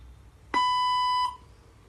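A single sustained electronic beep from a language-translator robot, a steady tone of about three-quarters of a second, clear and loud against a quiet background, with no talking.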